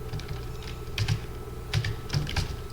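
Typing on a computer keyboard, heard as a few close clusters of light key clicks over a faint steady background hum, with no voices.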